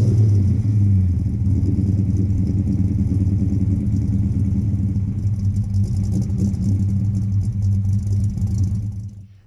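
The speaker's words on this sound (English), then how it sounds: "Maybe the mufflers need to get changed, but yeah, nice little idle." A 1988 Ford Fox body notchback coupe, slammed on air ride with worn mufflers, idles steadily with a deep, even low rumble close by, fading away in the last second.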